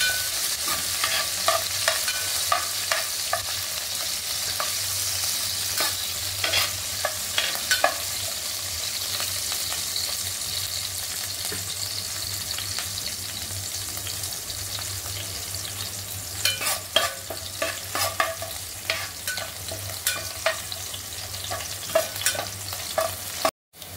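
Green chillies fry in hot oil in a pan while a spatula stirs them, a steady sizzle with frequent scraping strokes throughout, close and continuous with no talking.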